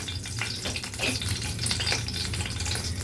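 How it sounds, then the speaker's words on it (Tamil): Crackling sizzle of two broken dried red chillies frying in hot oil in a pan, continuous with irregular pops and faint stirring scrapes. "எண்ணெய் சூடானதும் 2 காஞ்ச மிளகா இருக்குல்ல, அதை நம்ம கிள்ளி போட்டிருக்கேன்."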